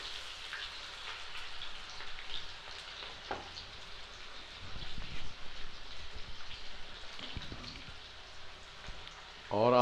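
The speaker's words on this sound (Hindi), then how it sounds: "अब हम इस तेल में जो है प्याज डाल देंगे। प्याज में इनको दरमियाना सा हम भून लेंगे" Onions fry in hot oil, a soft, steady sizzle resembling light rain, with occasional stirring knocks and scrapes partway through and a louder clatter at the very end.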